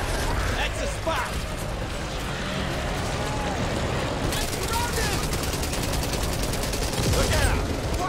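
Rapid gunfire in the zombie shooter Back 4 Blood during a boss fight against a tentacled creature, dense bursts of shots and clattering mechanical effects over busy game noise, with excited players shouting over it.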